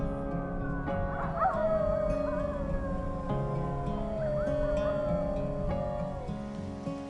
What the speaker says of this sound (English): A pack of wolves sounds off across the tundra.